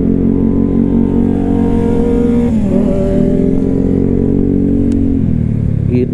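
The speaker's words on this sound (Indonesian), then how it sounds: "Nih di belakang gua ada ZX25R kan. Ketahuan banget dari suaranya." A Kawasaki ZX25R motorcycle engine drones loud and close with a high, buzzy multi-cylinder whine, pitch dipping and rising as it revs from behind on the road.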